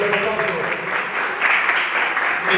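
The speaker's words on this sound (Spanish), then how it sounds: "Fuertes los aplausos para Aníbal." Audience applause at an award ceremony for an audiovisual competition, a steady broad wash of clapping with some voices mixed in, moderately loud throughout.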